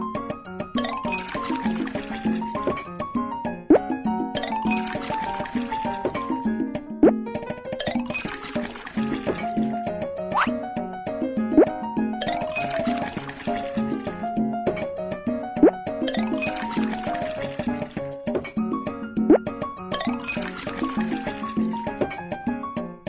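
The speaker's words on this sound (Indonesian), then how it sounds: "suara saat mengetuk tiap botol juga berbeda-beda" Glass bottles holding different amounts of water are tapped one after another, giving a repeating run of bright, ringing pitched tones in several phrases under background music, with no talking.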